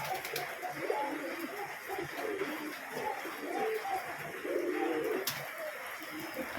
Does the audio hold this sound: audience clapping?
no